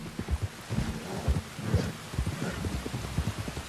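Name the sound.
rain falling, from the video game Red Dead Redemption 2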